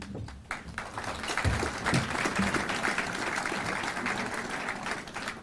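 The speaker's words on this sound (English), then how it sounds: "Thank you for the applause." An audience applauds at a Farmington Hills State of the Cities civic event, a dense, sustained wash of many hands clapping that swells and holds steady throughout.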